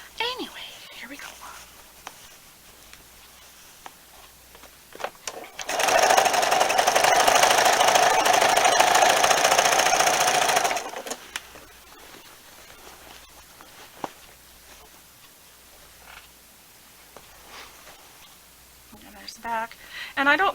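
A sewing machine stitching binding onto a quilt: one steady whirring run of about five seconds, with soft speech before and after.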